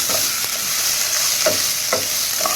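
Tomatoes sauté in a hot pan for a fish curry in coconut milk, a steady loud sizzle with several soft scraping stirs of a spoon, close and with no voices.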